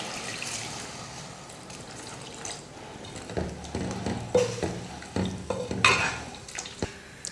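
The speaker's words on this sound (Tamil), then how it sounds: "நான் பருப்பு வேக வச்ச தண்ணியை ஊற்றிக்கிறேன்." Lentil cooking water is poured into a pot of radish sambar, giving faint trickling and splashing along with a few clinks of utensils against the pot, close and quiet with no talking.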